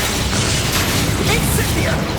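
Expulso blasting spell in Hogwarts Legacy sets off a short, loud burst of booming, crackling noise that fills the whole moment with rumble and debris-like clatter.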